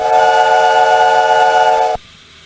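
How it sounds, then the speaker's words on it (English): A loud, steady train whistle blows in Minecraft with the Immersive Railroading mod for about two seconds and then cuts off abruptly, leaving near silence. "you hear a train whistle"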